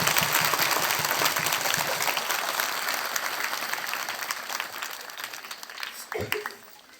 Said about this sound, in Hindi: चलिए हम लोग प्रभु को हमारे बीच में तालियों की गड़गड़ाहट के द्वारा स्वागत करते हैं।